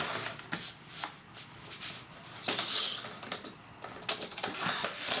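Paper is cut lengthwise for a scrapbooking pop-up page, giving close, dry rasping and slicing strokes in uneven bursts with brief pauses between them.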